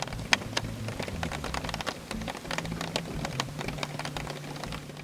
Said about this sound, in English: Actually, it's the tsetse flies hitting the windows.